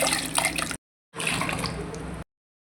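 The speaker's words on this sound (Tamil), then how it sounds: "ஜார்லேயே இன்னும் கொஞ்சம் தண்ணி ஊற்றி அதையும் சேர்த்துக்கலாம்." Water pours from a blender jar and splashes into a cooking pan of paneer butter masala in two short bursts separated by a brief silence, close and fairly loud.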